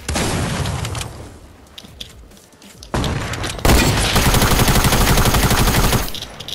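Loud bursts of rapid automatic gunfire in the video game Fortnite, with a brief lull and scattered shots before a long sustained barrage that then cuts off.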